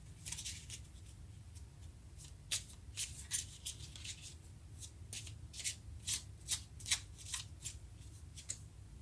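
Tarot cards being shuffled by hand in a quiet room, a run of crisp riffling bursts that quicken and cluster toward the end over a low steady background hum.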